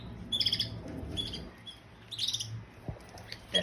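Several canaries chirp and tweet in short bright bursts, intermittent and fairly close, over a faint background rustle of the birds eating lettuce.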